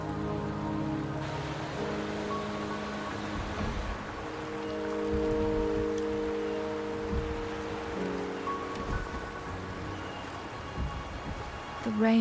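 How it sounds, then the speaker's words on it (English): Steady rain pours throughout a scene in the video game Wuthering Waves, a dense, continuous patter with soft low rumbles, layered over sustained musical tones from the game's soundtrack. "The rain is subsiding, and the sky will soon clear."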